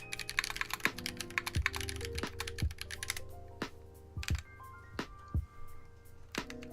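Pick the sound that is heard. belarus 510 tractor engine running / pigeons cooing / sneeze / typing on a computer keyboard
typing on a computer keyboard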